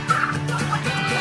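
Domestic turkeys on a farm raising thousands of birds gobble in a dense, overlapping chorus, several birds calling at once at close range with steady barnyard noise underneath.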